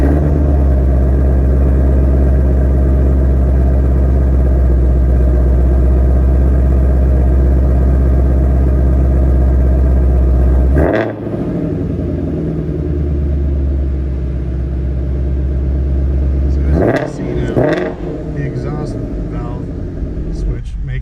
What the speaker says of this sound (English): we'll go ahead and fire it up,